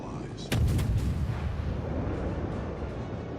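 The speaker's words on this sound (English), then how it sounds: "Open fire at your allies." Warship guns fire in the naval video game World of Warships, a sudden heavy boom followed by a rolling, sustained rumble that slowly fades, with game audio continuing underneath.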